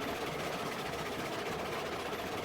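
A heavy steam locomotive engine in the Railroads Online train game grinds along with a steady, loud mechanical rumble and drone throughout, close and continuous, with no talking.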